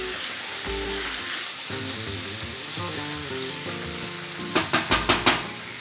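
Garlic stir-frying in a pan gives a steady close sizzle with quiet tonal sounds mixed in, then ends in a quick run of five sharp scraping or tapping hits. There is no talking.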